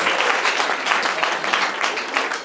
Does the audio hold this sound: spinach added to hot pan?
no